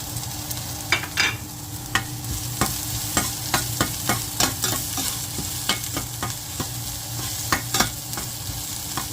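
Chopped onion and garlic stir-fry in a hot pan, with a steady, close sizzle broken by frequent sharp spatula scrapes and clacks in an uneven rhythm. No one speaks.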